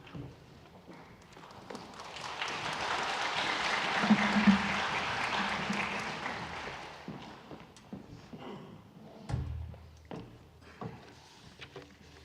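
Church congregation applauding during a Sunday worship service, a broad wash of clapping that swells to a peak midway and then fades into scattered taps and room noise.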